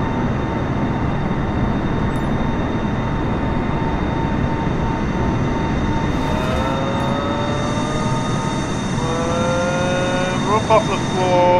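A small airplane in Microsoft Flight Simulator rolls down a short runway for takeoff near Luzern, its engine a steady loud drone that rises in pitch toward the end, with a voice talking over it.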